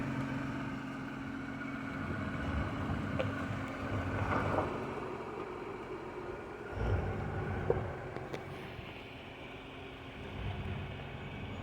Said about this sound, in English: we're going to let the vehicle do the work here. And it's doing it.